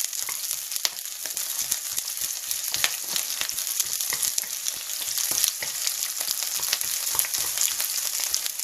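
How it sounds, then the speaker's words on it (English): Onions frying down in a hot pan for special fried rice, a dense, even crackling sizzle close by with bright spitting pops throughout and no voices. "You fry the onions down"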